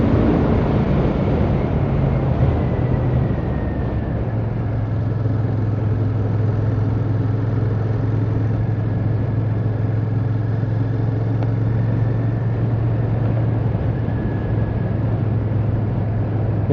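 A Royal Enfield Shotgun motorcycle engine runs steadily on top lanes, a continuous low thrum with a faint rising whine, close and loud, no voices.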